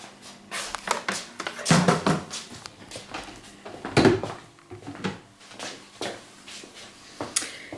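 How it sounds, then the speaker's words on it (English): Tahini and lemon juice being mixed for homemade hummus, heard as irregular clinks and scrapes of utensils against a bowl, with uneven knocks and clatters close by and no talking. "now we mix that. That's tahini and lemon juice."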